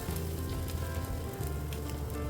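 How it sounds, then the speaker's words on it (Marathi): Ghavan batter cooking on a hot tawa griddle gives a steady, close, even sizzle with a soft crackling texture, continuous throughout and with no talk. "तव्यावर तुम्हाला दिसेल की तुमचा घावण शिजत आहे"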